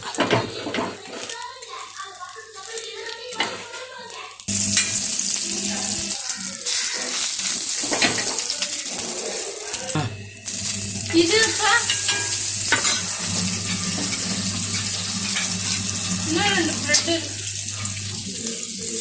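Bread slices for a vegetable sandwich fry in a pan. Quieter clatter and handling come first, then a loud, steady sizzle that briefly drops near ten seconds and resumes. A voice talks faintly underneath.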